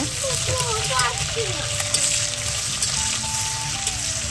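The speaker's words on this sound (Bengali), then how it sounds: "তারপর এখানে কুচি করা পেঁয়াজটা দিয়ে একটু ব্রাউন মতো হওয়া পর্যন্ত নেড়ে চেড়ে ভেজে নেব" Chopped onion fries in hot oil with bay leaf, dried red chilli and whole garam masala spices, a steady close sizzle under a constant hiss, while a voice talks over it throughout.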